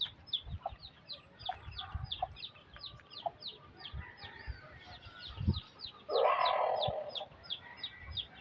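Fighting rooster clucking in short repeated calls at moderate distance, with other birds chirping steadily in the background and a louder burst of fowl noise near the end.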